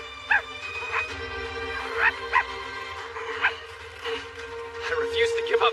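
A dog in an anime barks and whimpers in short yips spread through the scene, mixed with a steady hum and voices in the background.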